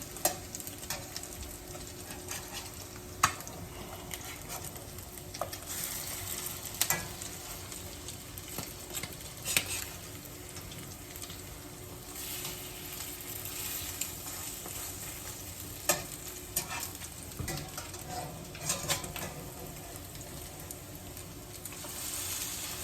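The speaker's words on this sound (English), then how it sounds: "these have been cooking about 3 or 4 minutes, and we're fixing to flip them over to brown the other side" Salmon patties frying in a pan, a soft steady sizzle with intermittent sharp clicks and scrapes of spatulas against the pan, fairly quiet and with no speech.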